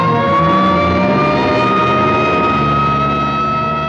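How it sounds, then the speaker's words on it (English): A 1940s ambulance siren wails steadily with a sustained tone that shifts slightly in pitch, loud and close over an engine rumble, with no talking. "here comes an ambulance out."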